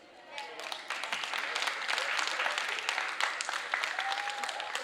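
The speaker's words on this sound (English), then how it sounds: "Another round of applause, please" An audience at a poetry recital contest breaks into steady applause, the clapping building quickly and holding as a dense, moderately loud wash from a crowded hall.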